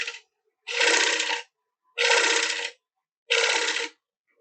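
Woodturning gouge cutting the rim of a spinning wooden bowl on a lathe, heard as three separate bursts of bright, rattling scraping, each under a second long, with silence between them.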